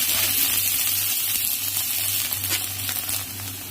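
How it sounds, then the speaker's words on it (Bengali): Garlic and dried chilli sizzle steadily in hot oil, a dense close crackle that holds for the whole stretch without talk, easing slightly toward the end. "রসুনটা আমার লাল লাল করে ভাজা ভাজা হয়ে গেছে।"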